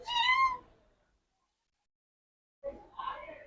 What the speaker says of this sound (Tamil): பார்த்தோன்னே மியாவுன்னு கத்த ஆரம்பிச்சிடும்.